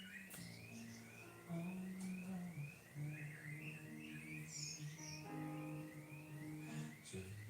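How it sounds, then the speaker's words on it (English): A rising, repeating electronic alarm tone cycles steadily in the background, with birdsong and a low sustained hum around it. "I can hear my alarms going off on the left"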